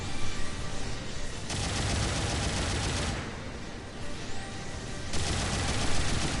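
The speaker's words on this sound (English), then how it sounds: "Thank God for the giant rocket launchers." Giant rocket launchers fire in the Gundam Battle Operation 2 video game, dense, loud, crackling barrages in long bursts with brief lulls between them, no voices heard.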